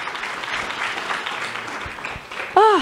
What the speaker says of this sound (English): Another great round of applause for Celeste, please.